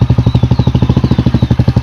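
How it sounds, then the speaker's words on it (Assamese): A motorcycle engine runs close by on a village road, with a loud, steady, rapid thumping chug that pulses evenly throughout and has no other sound over it. "এয়া উঠি ল'লোঁ এতিয়া বাইকত।"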